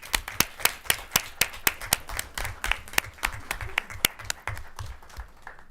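A small group at a school board meeting gives a round of applause: sharp, distinct hand claps in an uneven rhythm, close by, tapering off toward the end.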